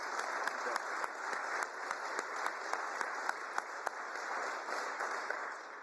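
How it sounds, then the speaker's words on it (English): A room of guests at a NATO reception gives a round of applause for visitors from Ukraine, steady soft clapping with a few sharper claps standing out, heard at a moderate distance. "Could we have a round of applause for our friends from Ukraine"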